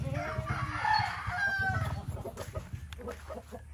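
Loose chickens on a farm cluck and a rooster crows, the calls close and overlapping in a busy outdoor flock, with steady clucking throughout and no talk.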